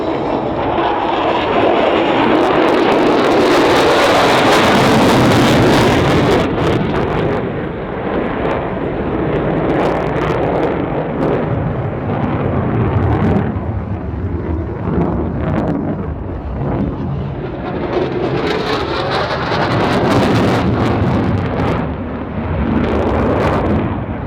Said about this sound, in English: get your cameras ready for the F-35s coming past